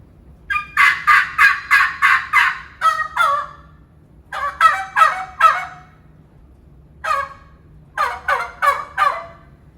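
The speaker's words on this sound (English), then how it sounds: "it's kind of like a shock gobble" Wild turkey gobbles ring out in several bursts of rapid rattling calls, loud and fairly close, separated by short pauses over a faint low background hum.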